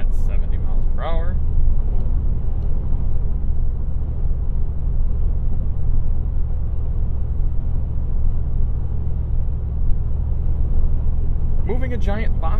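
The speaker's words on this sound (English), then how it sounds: "You can hear what the G63 sounds like at 70 miles per hour." A 2020 Mercedes-AMG G63 cruises at 70 mph, heard from the cabin: a constant deep road and wind rumble with the V8's low drone beneath, loud and steady, with brief speech at the start and end.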